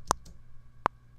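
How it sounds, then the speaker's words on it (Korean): Logic Pro metronome clicks, a bright high tick layered with a softer thud on the first beat, then a single sharp tick a beat later, crisp and isolated. "첫 박 갈때툭 소리 하나와 틱 소리가 동시에 두 개가 들려요"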